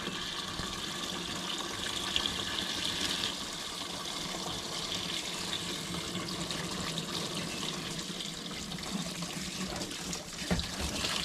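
Off-grid washing machine filling with water during its wash cycle, a steady rushing and trickling stream that runs continuously at moderate level, with a few small knocks and no talk.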